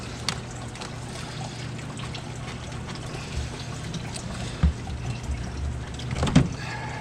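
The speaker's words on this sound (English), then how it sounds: "start draining the coolant out" Coolant drains from the radiator petcock of a 2018 Dodge Caravan in a steady, faint trickle, with a couple of brief metallic knocks near the end.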